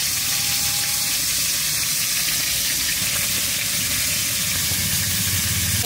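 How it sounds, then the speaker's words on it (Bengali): Pond-fresh rohu and catla fish fry in hot oil, giving a steady, loud, close sizzle that holds unbroken throughout. "তেল গরম হয়ে গেছে, মাছ ছাড়ছি।"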